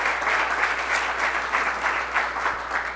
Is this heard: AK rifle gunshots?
no